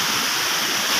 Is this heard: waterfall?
yes